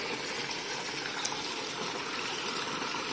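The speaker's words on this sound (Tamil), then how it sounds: "இந்த வாட்டர் இன்லெட்டில் பார்த்தீங்கன்னா இந்த பக்கம் அந்த சுவிட்ச் ஆன் பண்ணி வச்சோம்னா வாட்டர் வந்து ட்ரை ஏரியாவுக்கு வரும்" Water flowing into a Croma semi-automatic washing machine through its inlet, a steady, dense gushing rush that holds evenly for a few seconds at close range, with no talk.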